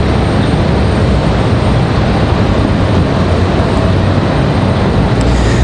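Jet noise from an Airbus A320-200 airliner at Raleigh Durham airport, a loud, dense, constant roar holding steady throughout.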